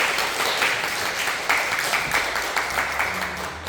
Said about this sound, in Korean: 박수로 환영해 주시면